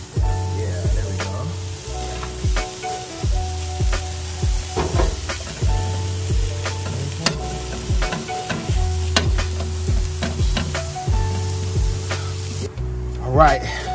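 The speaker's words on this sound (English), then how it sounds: "We have a nice coat of olive oil in it. We're just gonna add our onions to this right now." Onions sizzle as they are added to a coat of hot olive oil in a pan and stirred, a steady frying hiss running throughout beneath a person talking.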